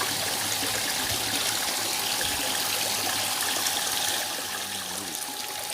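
Koi pond water flows steadily into a surface skimmer, a continuous close rushing gurgle with a faint hum beneath it that eases slightly toward the end; no one speaks.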